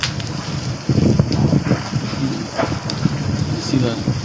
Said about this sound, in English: The wind is blowing the opposite direction.